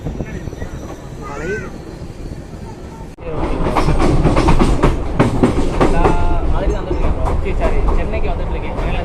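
The Navajeevan Express passenger train runs on the rails between Ahmedabad and Chennai; a quieter stretch gives way to a loud, close, steady rumble with rhythmic clattering.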